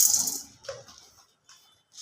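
A few whole black peppercorns clatter and rattle into a dry pan for roasting, a quick scatter of clicks followed by sparse lighter ticks.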